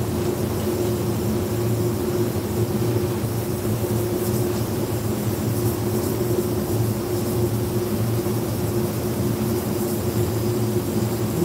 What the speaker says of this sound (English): if it wasn't for the blower, this would still be soaking wet, which is why I like using the blower.